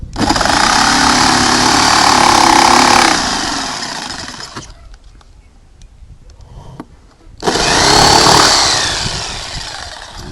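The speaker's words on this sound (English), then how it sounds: "we'll just finish up this with the jigsaw" A jigsaw cuts cedar window trim in two loud close bursts of buzzing, rasping blade noise, separated by a quieter pause of a few seconds.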